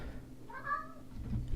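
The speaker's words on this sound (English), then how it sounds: "My cat just walked in." A house cat lets out a single short meow, fairly close but soft, over a quiet room with a low background rumble.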